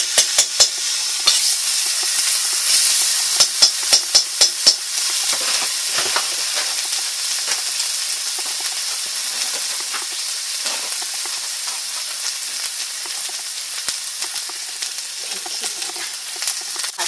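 Garlic sizzles steadily in a hot pan while cooking chicken risotto, a continuous frying hiss with a few sharp crackles and stirring clicks early on, close and fairly loud, with no talking.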